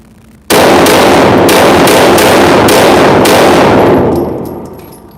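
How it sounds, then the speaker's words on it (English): Rapid string of FN 509 pistol shots on an indoor gun range, each a loud sharp crack in quick succession, blending into a continuous roar that tapers into echoing decay. "So here we go, 7 rounds in the 509, and we'll see what it does."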